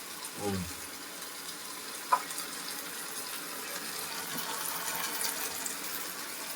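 Water is poured into a brinjal and dried prawn curry, a soft steady rushing pour that runs on for several seconds, with no one talking.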